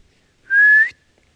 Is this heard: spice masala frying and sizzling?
no